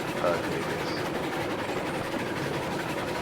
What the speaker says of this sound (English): You know I'm riding on the train again.